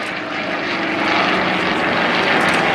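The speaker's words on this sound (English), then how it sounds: "Here come the Yak 52s coming back into the crowd center" Yak-52 aerobatic aircraft with nine-cylinder radial engines fly past at an airshow, a loud continuous propeller drone that builds in strength as they come back toward crowd center.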